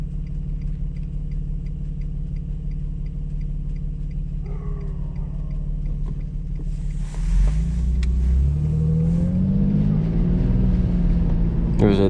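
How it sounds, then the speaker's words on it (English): A 2007 Infiniti G35 coupe with a VQ V6 idles at night, a steady low rumble that then swells louder and deeper as the car pulls away, with someone talking over it. "you can hear it idling"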